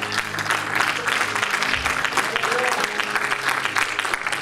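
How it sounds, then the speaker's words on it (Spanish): A church congregation claps at a Spanish-language service, a loud continuous wash of applause with some voices and crowd noise mixed in throughout. "Denle un aplauso a Cristo en esta hora"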